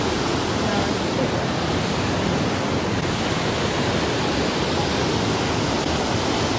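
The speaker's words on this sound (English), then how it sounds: "Oh, a waterfall, look!" A waterfall in Canada roars as a dense, steady rush of white noise, loud and unbroken from start to finish, with no voices over it.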